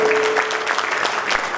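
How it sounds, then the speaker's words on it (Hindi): Audience clapping for teachers at a student and teacher award ceremony, a dense burst of many hands applauding loudly and steadily for a short stretch. "एक बार सभी गुरुजनों के लिए बहुत जोरदार तालियां।"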